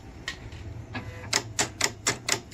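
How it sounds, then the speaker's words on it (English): A Silhouette Cameo 3 cutter's auto blade clicks as it adjusts depth, a run of sharp, close mechanical ticks that start sparse and speed into a quick, even rhythm. "that's the auto blade adjusting. That's what that clicking noise is."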